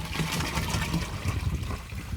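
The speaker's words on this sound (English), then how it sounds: "Pour in the other half gallon that you have." Half a gallon of water pours steadily into a plastic pesticide container for triple rinsing, a continuous close splashing gush with no talking.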